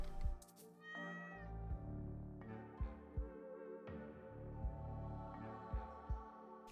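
A cat in a farming video game meows several times, clear and close, over a mellow game soundtrack with soft thumping notes, and no one talks.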